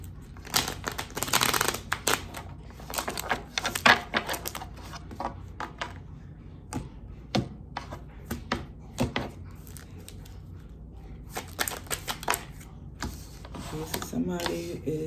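Rapid papery riffling and snapping in short bursts as tarot cards are shuffled close by, with pauses between rounds.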